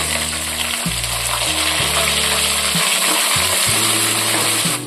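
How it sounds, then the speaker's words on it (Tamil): Steady crackling sizzle of shallots sautéing in hot oil for a spicy crab masala, continuous and close, with low tonal hum and occasional stirring underneath. "சின்ன வெங்காயம் சேர்த்து ஒரு ரெண்டு நிமிஷத்துக்கு நல்லா வதக்கி கொடுத்துருவோம்"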